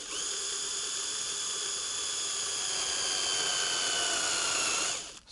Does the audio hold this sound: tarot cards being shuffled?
no